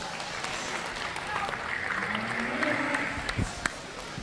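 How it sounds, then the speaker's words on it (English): At a county fair 4-H and FFA market steer show, the crowd applauds the kids in the ring with a moderate, diffuse clapping wash under arena murmur, with a few sharper isolated claps and knocks near the end. "let's give these kids a round of applause, a nice class of steers"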